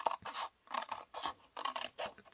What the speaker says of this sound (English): I'm going to cut above this blue border.